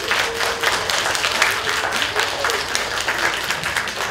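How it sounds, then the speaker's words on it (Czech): Children in a theatre audience clap loudly and continuously at a Christmas stage show, a dense steady wash of applause filling the hall without a break. "Je to představení, ve kterém je děti dovoleno hodně hlasitě tleskat."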